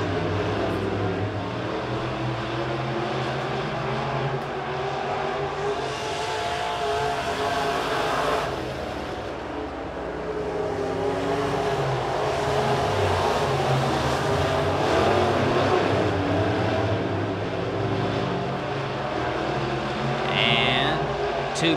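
B-Modified race cars racing on the dirt track at Springfield Raceway, engines droning and revving continuously at a distance, with a race announcer talking over the steady roar of the pack.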